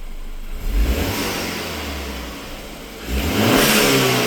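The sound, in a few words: BMW with stock exhaust revving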